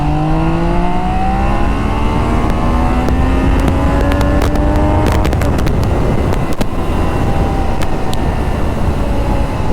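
A Triumph Daytona 660 motorcycle engine pulls through mid RPM on an open road, a loud steady drone with rising tones and constant wind rush throughout.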